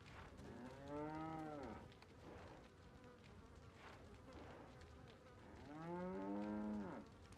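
A cow moos in the Resident Evil 4 HD fan mod, two long low drawn-out moos several seconds apart over a quiet buzzing of flies and insects, with no talk.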